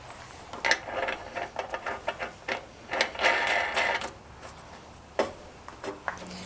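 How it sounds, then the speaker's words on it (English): Scattered metallic clicks and ratcheting taps from tightening a bolt at the top of a hydraulic thumb cylinder on a mini excavator, irregular and moderately close. "Now let's go up here to the top of the cylinder and tighten this bolt down."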